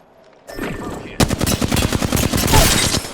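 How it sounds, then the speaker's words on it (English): Smart bullet gunfire from the video game Apex Legends: a short burst, then a sustained stream of rapid, evenly spaced shots, loud and close, with no talk. "Firing a smart bullet."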